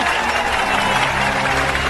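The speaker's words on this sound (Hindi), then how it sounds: "ताली बजाओ, ताली" An audience claps in dense, sustained applause, a loud, even wash of many hands with a faint crowd murmur beneath.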